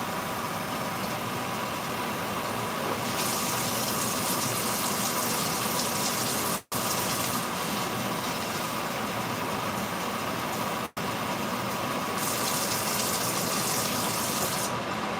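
Water being poured, about one and a third cups, a continuous loud gushing stream that runs steadily with two very brief cut-offs along the way.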